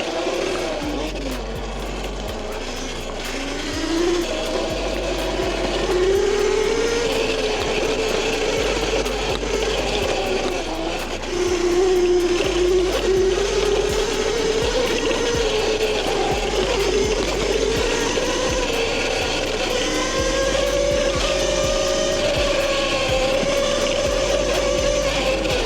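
Xekoya XE100 52V electric dirt bike pulling away from a stop, a steady rising electric motor whine with drivetrain hum running continuously and fairly close, over outdoor wind noise.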